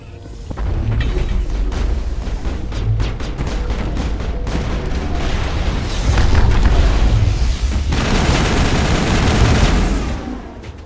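A firefight in the video game Mass Effect brings loud, rapid bursts of gunfire and booming impacts that come close together and continue through nearly the whole stretch, with no one talking.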